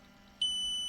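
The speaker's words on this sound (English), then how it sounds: "If I touch the negative somehow and come here, beeping." A multimeter in continuity mode gives a sharp, steady electronic tone that suddenly switches on and holds, a continuous high-pitched beep over faint background hiss, while testing a Parkside 12V 2Ah battery.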